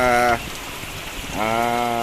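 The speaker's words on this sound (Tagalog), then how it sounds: "Lumakas na yung ulan." Heavy rain pours down at an animal-raising farm, a steady broadband wash that swells louder, with a harmonic voice-like tone over it at the start and end.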